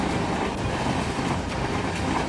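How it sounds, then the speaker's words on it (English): A train races along the tracks at roughly 110 km/h, giving a steady, loud broadband roar with no letup for the whole stretch. "A heart-stopping moment occurred as the train sped forward at around 110 kilometers per hour."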